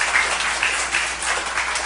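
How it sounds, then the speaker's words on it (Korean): A church congregation at a Sunday service applauds in a steady, dense wash of clapping that lasts the whole short moment, without a voice over it. "우리 큰 박수 한번 부탁드립니다"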